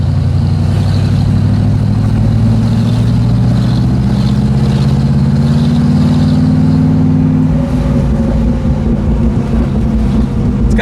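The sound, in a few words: 1979 Pontiac Firebird Trans-Am convertible exhaust while driving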